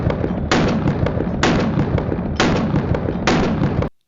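Four loud shots from a Sig Sauer P320 pistol with an AXG Legion slide and compensator on an X-Five Legion frame, evenly spaced about a second apart, each sharp blast trailing into outdoor echo.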